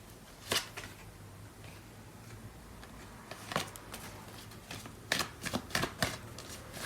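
Tarot cards being shuffled by hand, with scattered crisp riffles and flutters early on and a denser, louder burst of shuffling near the end, heard up close with no talking.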